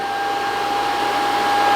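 A Shark IQ robot vacuum runs with a steady motorized whir and high whine, continuously and close by with no talking.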